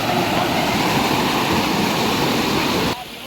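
Fast-flowing river water rushes in a dense, loud, continuous roar close by, dropping slightly in level just before the end.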